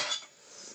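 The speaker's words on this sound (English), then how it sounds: "It's dishes time, everybody." Dishes and cutlery clink softly in a short burst at a home kitchen sink, fading into a quiet wash of running noise with no voices.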